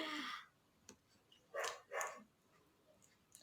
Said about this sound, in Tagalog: so kumakahol ang aso